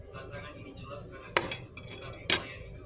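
A spoon stirring coffee powder into water in a glass, soft scraping swirls punctuated by two sharp metallic clinks against the glass, close and quiet.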